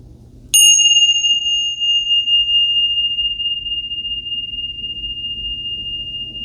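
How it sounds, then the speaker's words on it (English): A single bell is struck once, giving a sharp bright strike followed by a long, clear sustained ring that slowly decays over several seconds against a faint low background hum. "now let's ring the bells."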